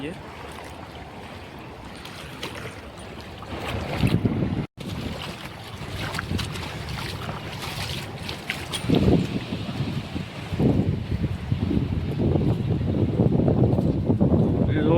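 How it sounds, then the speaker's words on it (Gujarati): A river running in full flow, heard outdoors as a rough continuous rush of water mixed with heavy wind buffeting the microphone, loud and close, with voices talking over it at times. "પાણી ફૂલે ફૂલ ચાલુ છે."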